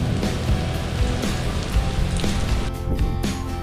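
Steady rain patters on a surface at a lakeside fishing spot, a dense continuous hiss of drops with no voices, close and fairly loud throughout.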